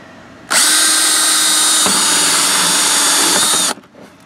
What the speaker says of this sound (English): A 1-inch hole saw or a 1-inch drill bit.